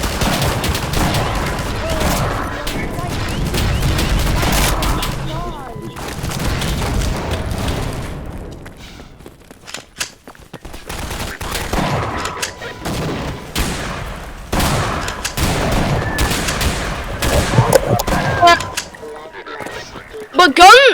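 Video game gunfire bursts in dense, repeated volleys and rattling bursts with booms, loud throughout, while players talk over the shooting.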